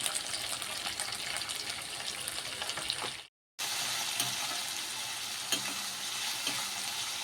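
Chopped onions, green chillies and a pinch of asafoetida sizzle steadily in hot oil while being stirred for an Andhra-style dal tempering, with a brief drop to silence partway through.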